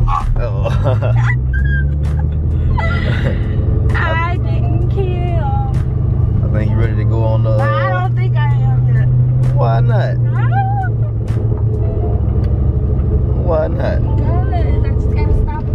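A Ford Mustang Cobra with a manual clutch drives along as an inexperienced driver handles the clutch. Its steady low engine rumble runs throughout, under people talking in the car.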